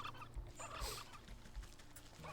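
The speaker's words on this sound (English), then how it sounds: "Turkeys, turkeys, get away." Turkeys gobble in the Wytchwood video game, a run of quick warbling game calls over a steady low music bed, fairly close and moderately loud, with no talk.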